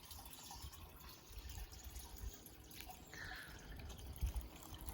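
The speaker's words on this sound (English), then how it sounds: "the water trickles down from one to the next, to the bottom one, and then gets pumped back up to the top again" Water trickles and drips between three stacked ceramic urns in a cottage-style garden water feature, a faint, steady splashing with small irregular drips, quiet and close.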